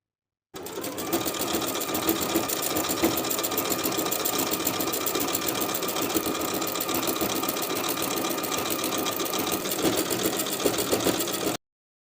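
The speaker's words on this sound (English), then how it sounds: "I'm going to top stitch and finish that seam at the same time, using a decorative stitch that will also provide stretch." A sewing machine runs steadily for about eleven seconds, top stitching a stretchy T-shirt seam with a decorative stretch stitch. The fast, even motor whir and needle rhythm stay loud and unbroken throughout.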